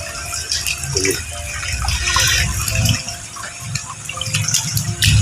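Water drains gushing and splashing out of a shing fish farming tank, an uneven close flow with trickles and drips rising and falling in strength.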